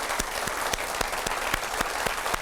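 Steady audience applause at a debate on rent control in Nigeria, a dense wash of clapping with a few sharper individual claps standing out at an even rhythm.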